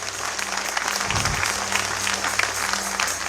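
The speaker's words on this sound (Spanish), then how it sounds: "Dale fuerte palmas para Cristo Jesús." A church congregation claps loudly and continuously, a dense crowd of hands in steady applause, with a faint electrical hum underneath.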